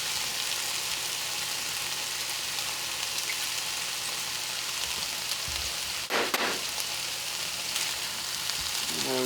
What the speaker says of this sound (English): So as we know, we're sauteing our meat in water.